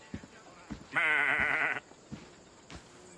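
A single loud, wavering goat bleat rings out near the goat pens in the Assassin's Creed Odyssey video game, lasting under a second, with soft thuds before and after in a quiet setting.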